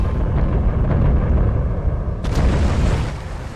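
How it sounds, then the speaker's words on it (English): Heavy naval guns of the battleship Yamato firing in a ship-versus-ship game against the Musashi: a loud, rumbling boom rolls on throughout, with a sharper second blast partway through that lingers as a deep roar. "Alright, opening fire from the Yamato."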